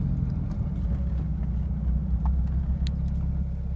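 A 1998 Ford Fiesta engine idles with a steady low rumble, heard close and continuous, with a few faint clicks over it.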